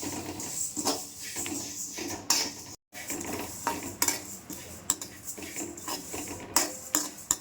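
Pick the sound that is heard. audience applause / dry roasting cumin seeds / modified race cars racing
dry roasting cumin seeds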